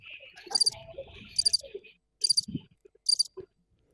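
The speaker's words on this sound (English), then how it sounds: "you get crickets." Cricket chirp sound effect from a sound pad in a quiz game, four short repeated bursts with brief gaps between them, with low voices and talk under and between the chirps.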